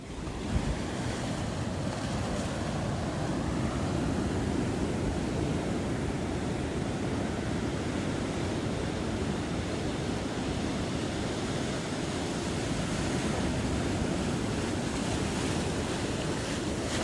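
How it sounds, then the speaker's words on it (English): Pacific Ocean waves crash on rocks at low tide, making a continuous, dense roar of surf with wind buffeting the microphone, steady throughout with no voices. "there were some waves crashing. Here is that audio."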